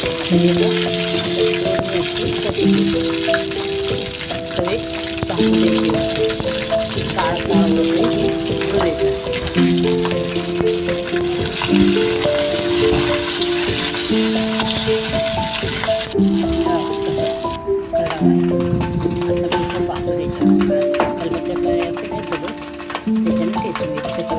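Cumin seeds frying in oil on an iron griddle, a steady close sizzle running throughout under a continuous layer of tonal background music.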